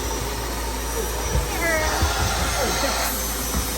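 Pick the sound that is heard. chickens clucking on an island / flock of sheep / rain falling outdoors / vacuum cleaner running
vacuum cleaner running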